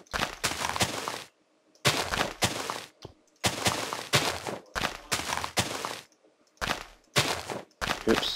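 TNT cannon in Minecraft firing repeatedly, a series of sharp loud blasts in uneven bursts separated by short silences, with no talking.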